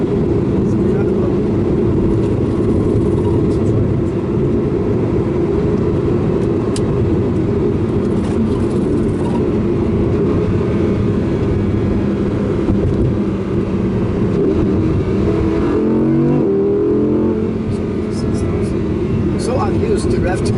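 Audi R8 Coupé V10 engine running steadily and loud inside the car on a test drive, a continuous low drone with a brief rise near the end, with people talking over it.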